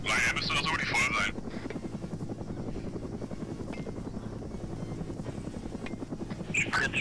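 Helicopter flying in the video game Arma 3, a steady rhythmic rotor chop and engine drone running throughout, with a person talking over it near the start and end.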